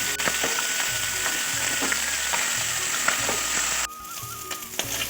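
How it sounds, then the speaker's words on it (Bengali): Small puti fish fried in hot oil in a pan, a steady loud sizzle with light stirring clatter throughout, briefly softening near the end, with no talking. "মাছগুলো ভাজা হয়ে গেছে"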